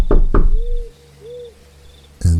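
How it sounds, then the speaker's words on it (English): Two sharp knocks on the door of a building, close and loud, followed by quiet with faint insect-like chirps and a rustle near the end. "I knocked one more time out of desperation"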